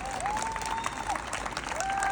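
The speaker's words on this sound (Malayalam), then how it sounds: "കൊള്ളായിരുന്നെങ്കിൽ ഈ കൈയടി പോരാ." Audience applause at the Trivandrum Heritage Run marathon event after a Zumba warm-up session, a steady wash of clapping lasting the whole moment with a faint whistle-like tone riding on top.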